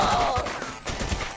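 Shotgun blasts in the video game Not A Hero, a quick cluster of sharp, crashing shots over game noise, with a brief tonal sound at the start.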